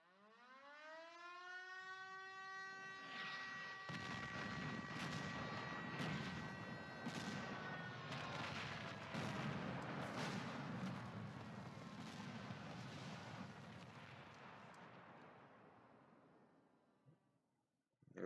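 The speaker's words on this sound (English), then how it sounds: "I chose artillery underscore explosion because it makes a noise before it comes down" Off-map artillery strike in Men of War: Assault Squad 2, a long rising siren-like whistle of an incoming shell building over several seconds, then a loud sustained rumbling explosion that fades away, with no voices.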